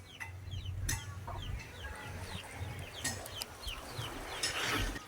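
Chickens cluck in short, irregular bursts close by, amid an outdoor farmyard background with scattered bird calls and faint rustling.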